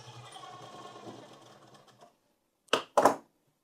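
A sewing machine runs a fast, even stitching burst while a blouse is sewn, then falls quiet before two short, sharp mechanical clacks close to the microphone.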